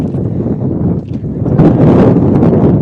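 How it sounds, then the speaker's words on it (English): Loud wind buffets a microphone at an outdoor boys' soccer game, producing a rough, rumbling roar that swells and dips, growing stronger toward the end. "Oh my, it's windy."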